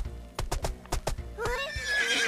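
A horse in a video game clip-clops with several sharp hoofbeats, then gives a loud, rising whinny that trails off, all close and clear with no talk over it.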